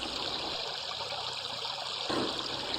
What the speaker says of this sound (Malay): Bunyi air sungai yang mengalir menambahkan lagi ketenangan dan keindahan di Sungai